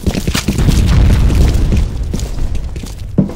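A grenade blast in a capture-the-flag video game: a deep, rumbling boom swells early and sustains loudly for several seconds before tailing off, with a sharp pop near the end.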